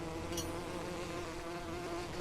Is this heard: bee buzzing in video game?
yes